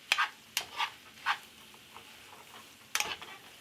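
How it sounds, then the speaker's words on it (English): Vegetable lo mein is stirred and tossed in a pan, giving a handful of short scraping, sizzling bursts at an irregular pace, close and moderately loud with no talking. "Stir it all up. Mix it all up."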